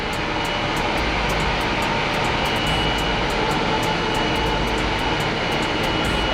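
A boiler starting up: a steady, dense roar of burner noise with a low rumble underneath, holding constant and fairly loud throughout without pauses.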